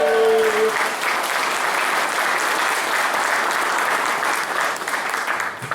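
At a Korean political rally, audience members clap in a loud, dense, sustained burst of applause, with a voice briefly audible at the very start.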